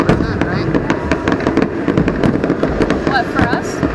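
Rapid crackling and popping bursts of Fourth of July fireworks in West Palm Beach, dense and continuous, with people talking faintly underneath throughout.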